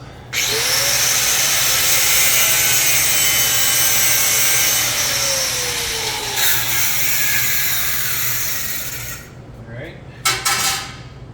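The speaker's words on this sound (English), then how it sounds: "What I'm going to do is I'm going to cut this off right here with my cutter." A cutter slices off a 1955 Pontiac rear bumper with a loud, continuous, harsh metal-cutting whine lasting most of the clip, then stopping, followed by a few short clanks close by.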